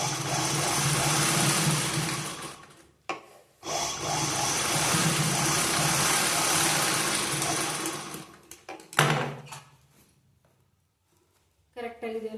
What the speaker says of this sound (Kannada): ಕೆಳಗಡೆ ಭಾಗ ಕೂಡ ಅದೇ ಥರ ಸ್ಟಿಚ್ ಹಾಕೋತೀನಿ.